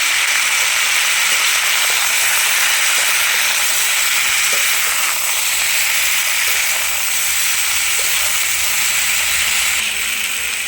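Chalta fruit pieces sizzling loudly in caramelized sugar in a pan, a steady, dense hiss that runs unbroken from start to finish with no voices.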